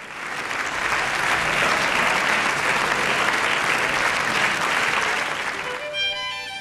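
A theatre audience gives warm, sustained applause for a comic ballet troupe; the clapping swells evenly for about six seconds, then fades as music begins at the end.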